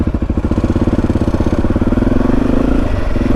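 A Honda off-road motorcycle engine running on a green lane, a loud, close, rhythmic chugging idle with pulsing beats that rises into a fuller revving drone toward the end, no voices over it.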